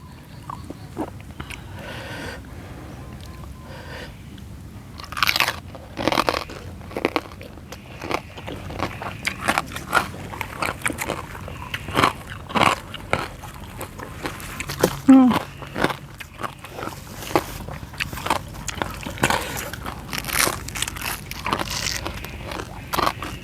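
Crispy pork belly eaten with papaya salad gives off crunchy bites and chewing, close, irregular crackles scattered over some twenty seconds, with someone talking in between.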